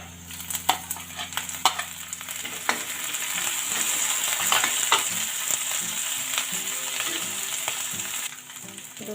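Green chillies and ginger fry loudly in hot oil in a pan with a constant close sizzle, while a few sharp clacks of stirring land early on.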